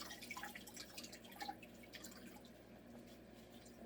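A filter cartridge soaking in dirty saltwater aquarium water drips and trickles in quick, faint, irregular patters over a steady low hum, fading slightly toward the end, with no talking.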